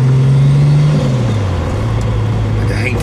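Turbocharged VW Golf 2 pulling hard in fourth gear, a loud steady engine drone inside the car that dips in pitch as the revs settle, with a faint whine near the end.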